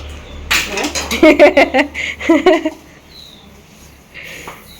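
Dishes and steel pots clink and clatter in a burst of washing up, sharp metallic knocks close by, then quieter, with brief talk in the background.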